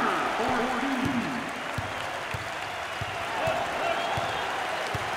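Crowd applause in an arena during an NCAA basketball game between Rice and Houston, with steady clapping and cheering under commentators talking.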